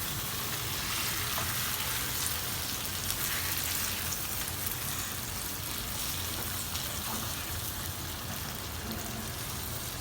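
Chicken chaap fries in a pan while being stirred, a steady, dense, hissing sizzle that carries on evenly throughout, close up and alone without talk.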